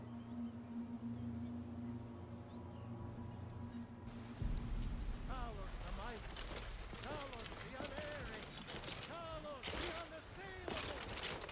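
Steady rain hiss from modded Skyrim plays under a man's continuous speech, joined partway through by sharper game sounds.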